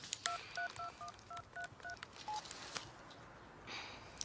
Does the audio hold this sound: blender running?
no